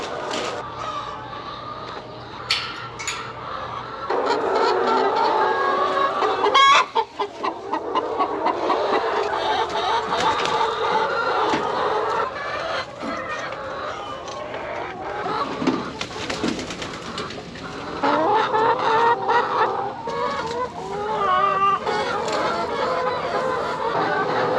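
Chickens cluck and coo steadily in a farm pen, a busy layered flock heard throughout with scattered louder calls and some voices talking.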